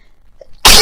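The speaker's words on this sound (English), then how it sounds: "I just felt that sneeze come along" A single sudden sneeze bursts out loud and close after near silence, a sharp explosive blast that fills the end of the moment.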